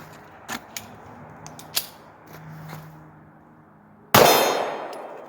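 A Glock 43 pistol fires a Tula 135-grain subsonic hollow point round, one loud sharp report near the end, preceded by a few small metallic clicks and handling clanks.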